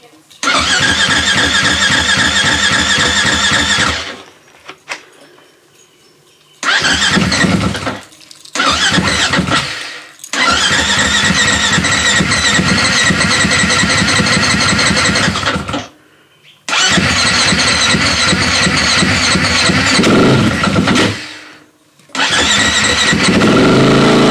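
A brand-new 2022 Beta RR390 dirt bike engine is kick-started and roars to life, revving loudly in long bursts with brief silent gaps between runs.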